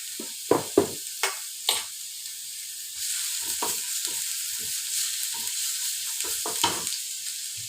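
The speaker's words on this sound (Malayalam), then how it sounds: "നമുക്ക് നല്ലോണം വഴറ്റിയെടുക്കാം." Ginger-garlic paste sautéing in a pan: a few sharp scrapes and taps of a spoon against the pan, then a steady sizzle with intermittent stirring knocks, close and fairly loud, no talking.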